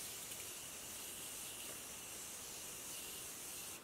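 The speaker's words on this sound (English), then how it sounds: "so we'll put on the Morphe spray." Morphe makeup setting spray hisses in a fine continuous mist, a faint, even spray held for a few seconds with no talk over it.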